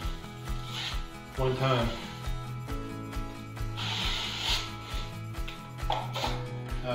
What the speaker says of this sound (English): I'm going to skim coat this whole thing